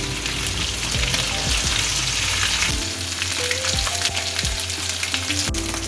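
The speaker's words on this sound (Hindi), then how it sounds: "मैरिनेटेड जो है ये मटन उसको निकाल कर बोटी को इसके अंदर फ्राई कर लें" Marinated mutton pieces for an Afghani mutton karahi fry in hot oil, giving a loud, steady sizzle throughout with occasional low thumps and scrapes as the pieces are turned.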